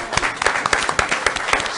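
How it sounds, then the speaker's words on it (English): Applause from the audience at a city commission meeting, a short, steady burst of many hands clapping at moderate loudness with no speech over it. "let's give her a round of applause."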